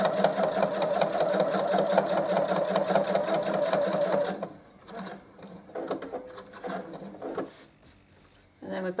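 Sewing machine running steadily for about four seconds while stitching around a small fabric coaster, then stopping; afterward come only quiet handling noises and a brief restart near the end.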